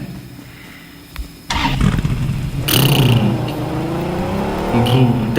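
A car starts up and drives off, an abrupt rise in engine noise after a quiet start followed by a steady loud roar with shifting tone as it moves away.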